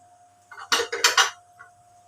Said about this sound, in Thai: ผมเลือกไปใช้กระทะใหญ่มาผัด